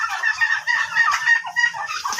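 Turkeys call on a farm next to a gourd patch, a steady chorus of gobbling and honking fowl voices, fairly close and continuous with no talk.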